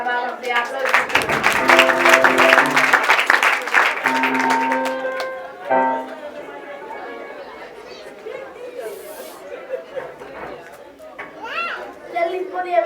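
A church congregation applauds amid lively crowd noise and children's voices. The clapping and chatter are loud at first, then ease to a softer murmur with scattered voices rising again near the close.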